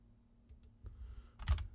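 Keyboard keys clicked on a computer during design software work, a few sparse, faint taps followed by a slightly louder cluster of keystrokes near the end, close by in a quiet room.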